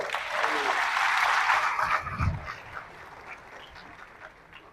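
Applause from an audience at a public gathering, a burst of clapping swelling over the first two seconds and then tapering off into faint scattered claps.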